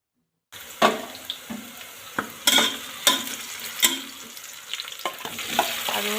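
Onions sauté in a hot pan for a beef curry, with a soft sizzle beneath repeated scraping stirring strokes that come in uneven bursts, close and fairly quiet.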